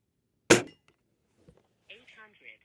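A single sharp crack from a Gamo Shadow GR .177 break-barrel air rifle at an outdoor range, short and fairly close, followed by a faint thud and brief high-pitched electronic beeps.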